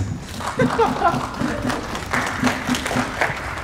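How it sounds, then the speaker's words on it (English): Audience at a stage fighting workshop gives a modest round of applause, scattered clapping under a voice speaking. "So maybe a round of applause for you and for the new wild contestant of yours."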